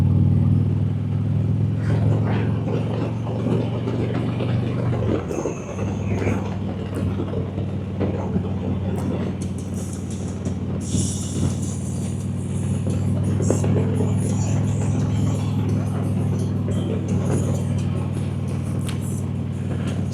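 Low, rumbling engine drone of a motor trike heard while riding, steady and close with a brief dip partway through and gusty wind noise, no talking.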